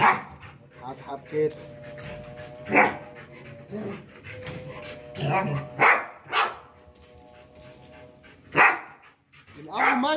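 A dog on a farm barks and whines in short bursts, with yips and panting between, while someone talks nearby over the animal.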